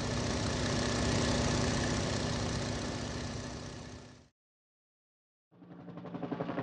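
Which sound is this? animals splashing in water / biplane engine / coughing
biplane engine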